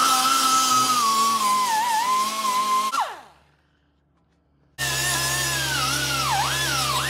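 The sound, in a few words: die grinder cleaning a metal surface on truck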